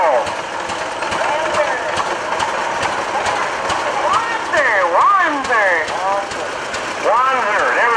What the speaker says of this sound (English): here we have the John Deere Model 8 John Deere, 1939 model